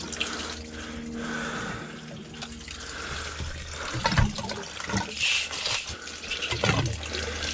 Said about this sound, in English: I gotta fill my whole thing here with water.